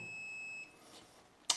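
A multimeter gives a steady high continuity beep for about half a second while probing the wire to a fan's capacitor, then cuts off, leaving faint room hiss and a brief click at the end.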